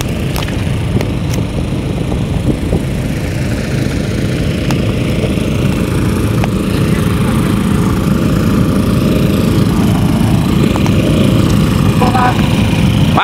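Engine-driven pumps run steadily to draw water from a drying lake at Dieng during the dry season, a constant loud mechanical drone throughout with voices talking faintly underneath.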